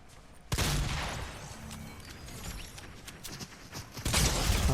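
Gunfire in the video game Fortnite during a squad fight, a sudden burst of loud shots followed by scattered cracks and clattering game noise, then another loud barrage near the end, with no speech.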